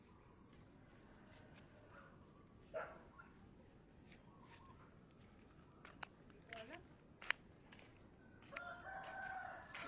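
A rooster crows faintly in a rural province setting, with short calls rising over a quiet hiss among other scattered bird and clucking sounds.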